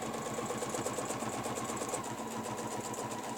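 A sewing machine stitches the tail of a ribbon bow in a rapid, even, pulsing rhythm. The mechanical chatter is close and steady for a few seconds, with no talking.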